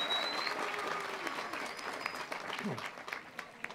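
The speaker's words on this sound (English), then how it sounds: "Let's give him a round of applause." Applause from a commencement ceremony audience, steady and moderately loud from start to finish, with a few voices and whistles mixed into the clapping.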